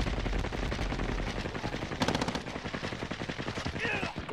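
Gunfire in a video game firefight across buildings, rapid bursts of automatic shots in a fast regular rhythm, loud and close, with a player talking over the shooting.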